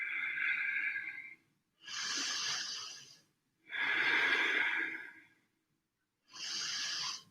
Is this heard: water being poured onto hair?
no